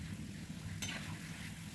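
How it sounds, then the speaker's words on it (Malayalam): Cauliflower chilli bits deep-frying in hot oil give a steady, soft sizzle close by, with one brief louder crackle midway and no talk. "കുറച്ച് സമയമെടുത്ത് വറുത്ത് കോരണം"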